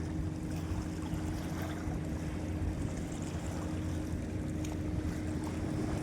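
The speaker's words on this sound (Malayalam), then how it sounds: "ഒരു ബോട്ട്." A boat out at sea on a fishing trip, heard as a steady low engine rumble under a continuous wash of wind and waves, with no voices.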